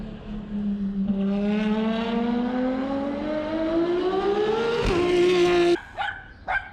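A white Ferrari passes fast near the factory in Maranello, Italy: a loud engine note rises in pitch as it approaches, then drops sharply as it goes by and fades, with a few brief sounds after.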